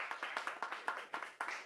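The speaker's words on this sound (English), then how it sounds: "By a round of applause, can you tell me how many liked that?" Audience at a panel livestream giving a small round of applause, a thin scattering of claps from a few people in uneven bursts, soft and somewhat distant.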